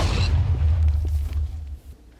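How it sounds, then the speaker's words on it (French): A TNT explosion goes off in Minecraft, a deep, heavy boom with a sharp crackling onset that rumbles on and slowly fades. "il y a une assez grosse explosion et ça a tout contaminé"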